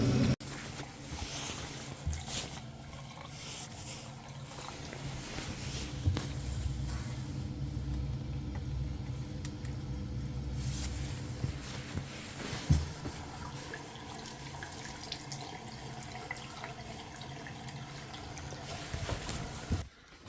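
A Ferroli Modena 80e gas boiler, with a newly replaced gas valve, fires up and runs, making a close, steady, loud broadband roar and hiss that continues without a break.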